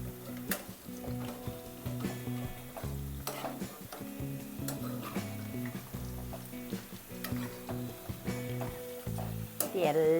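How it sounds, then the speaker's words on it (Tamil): Pennywort bondas frying in hot oil, a steady sizzle running throughout with stirring clatter and occasional sharp utensil taps close by; a voice is heard faintly at times. "எண்ணெய் சூடு ஆயிடுச்சு, அதுக்காக ஃப்ரை பண்ண ஸ்டார்ட்."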